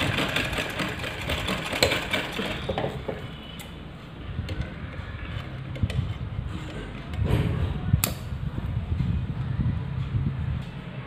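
A sewing machine stitches a designer off-shoulder blouse, running steadily with a fast, even mechanical whir and ticking close by for the whole stretch, swelling slightly louder toward the end.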